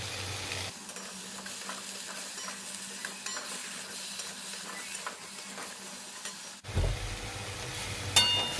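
Ground coriander, cumin, turmeric and salt frying with vegetable stalks in a pan over a medium gas flame, a quiet continuous sizzle with light scraping, then a sudden louder change near the end.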